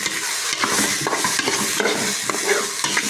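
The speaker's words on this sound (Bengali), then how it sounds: "এই যে টমেটো দিয়ে দিছি" Tomatoes stirred into potatoes and onion frying in a pan, a steady loud sizzle with repeated scraping stir strokes throughout.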